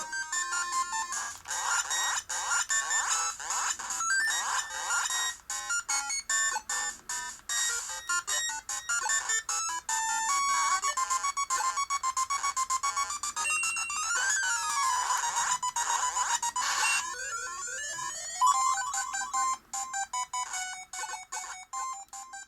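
Bright, beeping chiptune music from the Game Boy Color game Rayman, played on an RK2020 handheld console, with fast electronic melodies and blips, fairly quiet, with no voices.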